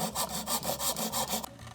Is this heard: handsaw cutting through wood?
yes